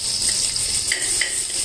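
Vegetables frying in homemade butter for a curry, a steady crackling sizzle with a few light clinks of a pan, close and continuous with no talking.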